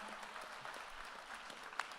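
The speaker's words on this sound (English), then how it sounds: "go ahead and clap" Steady audience applause, a dense patter of many hands clapping throughout, moderately loud with no voices.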